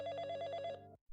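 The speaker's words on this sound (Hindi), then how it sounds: "तभी उसका फोन बजने लगता है।" A mobile phone rings with a quick pulsing electronic trill that stops abruptly after about a second, faint and isolated with no talk over it.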